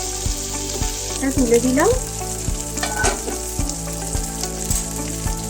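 Tandoori chicken pieces fry in a pan on a gas stove, giving a steady, close sizzle and crackle throughout, with a regular soft thumping beat underneath and a brief spoken remark midway.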